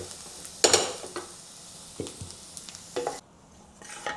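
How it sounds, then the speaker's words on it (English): Ginger, garlic and onions sautéing in a pan for Malaysian oxtail soup, with soft sizzling under a few sharp stirring scrapes and utensil clinks, fairly quiet and close, no voices. "saute the ginger, garlic, and the onions until aromatic"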